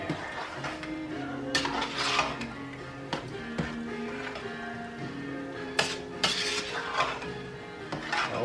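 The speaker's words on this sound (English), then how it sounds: "Now, mix that all in there" Utensil scraping and clinking against a bowl while jambalaya is stirred, a steady run of close taps and knocks with a few sharper clanks.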